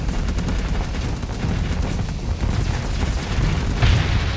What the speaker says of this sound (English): Good thing my shields were up, otherwise I would have taken some damage here from the explosion.